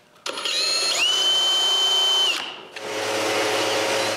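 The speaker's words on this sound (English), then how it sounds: "I drilled one hole for the motion detector" Power drill boring a hole in a shop for a motion detector: a loud whining motor rises, holds a steady high pitch, dips briefly, then spins up again with a rougher tone.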